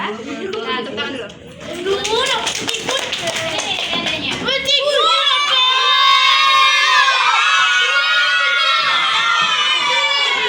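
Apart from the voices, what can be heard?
classroom children clapping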